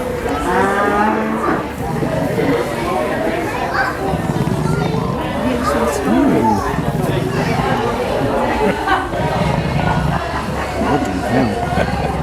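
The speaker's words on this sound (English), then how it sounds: "Snoring pigs." Pigs snore and grunt steadily at the Chelmsford County Show, a continuous loud rumble with a crowd chattering around them throughout.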